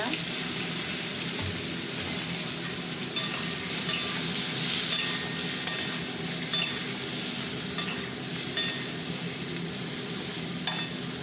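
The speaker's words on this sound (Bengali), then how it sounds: "এবার আমি একটু তেল দেবো, পটলগুলো ভাজবো তো" Pieces of pointed gourd fry in hot oil with turmeric, giving a loud, continuous close sizzle with occasional scraping stirs across the pan.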